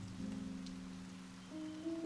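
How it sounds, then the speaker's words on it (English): Steady soft rain falling on a surface near a cosy Kyoto café, a continuous gentle hiss with faint low tonal hums beneath, no voices. "the sound of rain becomes your only guide"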